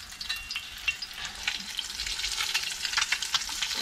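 Dungeness crab cakes frying in hot grease in a pan, a close, continuous crackling sizzle with bursts of spattering as they are flipped; no talk.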